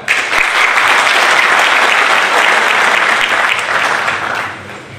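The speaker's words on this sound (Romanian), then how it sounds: "Aș vrea acum să primim în aplauze pe domnul profesor și copreședinte Dumitru Oprea." A political party rally crowd in Pascani applauds loudly as a speaker is welcomed, a thick sustained clapping that stays strong for several seconds before tapering off at the end.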